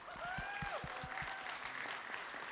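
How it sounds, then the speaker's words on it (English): Applause at a city council meeting, a steady wash of clapping with a few whistles and raised voices at the start, then settling into quieter, even clapping. "please give these folks a round of applause for a job well done"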